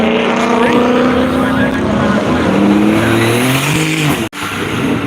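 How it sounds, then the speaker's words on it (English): A Porsche race car pulls away at Worldwide Technology Raceway, its loud engine note climbing through rising revs as it moves off, with a brief dropout near the end. "Got the Parks Farm Porsche leaving off."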